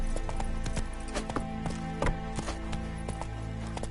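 Hooves clip-clop in a quick galloping rhythm as a horse runs in The Witcher 3: Wild Hunt, close and steady over a bed of sustained tonal background sound.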